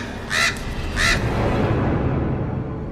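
Crows caw from a rooftop in two loud, harsh calls spaced about half a second apart, then fall quiet over a steady low background rumble.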